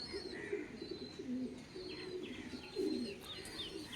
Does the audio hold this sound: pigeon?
yes